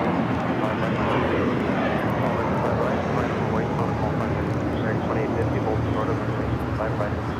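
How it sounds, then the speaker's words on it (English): An Aeromexico Boeing 787 Dreamliner taxis at LAX, turning left onto a taxiway, its jet engines giving a continuous, even broadband roar from a moderate distance, with a voice talking over it. "We also have Air Mexico Dreamliner making that left-hand turn onto Kilo"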